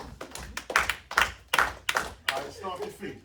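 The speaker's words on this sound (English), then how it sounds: "Clap your hands again." An audience at an entrepreneurship workshop claps hands together in a series of loud, rhythmic group bursts, roughly evenly spaced, with a room echo between them.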